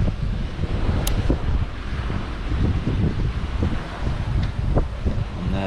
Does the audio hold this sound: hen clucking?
no